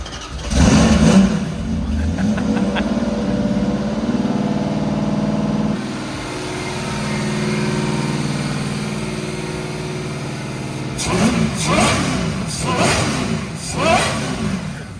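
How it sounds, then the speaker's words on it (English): A car engine with twin side-exit exhausts starts and revs hard up close, then settles into a rumbling idle before a few sharp revs return. "Listen to those. It sounds crazy. Look at the side exit exhaust."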